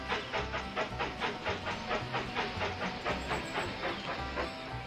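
A train running on track in the Railroad Tycoon 3 video game: steady rhythmic clickety-clack of wheels over rail joints with a hissing rumble, repeating evenly and moderately loud, no talk.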